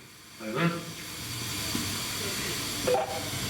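A 1926 Davey Paxman steam locomotive on the Romney, Hythe and Dymchurch miniature railway hisses steadily at close range, with a voice speaking over it briefly.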